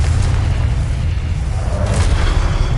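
A Confringo fire spell blast in Hogwarts Legacy, a heavy sustained rumbling boom dominated by deep low end, loud and close without a distinct single crack.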